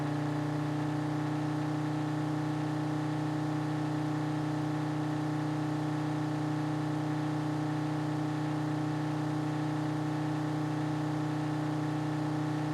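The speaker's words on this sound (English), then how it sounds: "I don't know anything about the diesel engine in these" A Citroen diesel car engine runs steadily in the Drive Beyond Horizons video game, a constant droning hum at even volume with no change in pitch and no talk.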